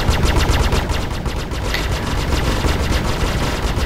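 Ship guns on a Retaliator fire in the Star Citizen video game, a loud, rapid, continuous burst of shots that runs through the whole stretch with no talking.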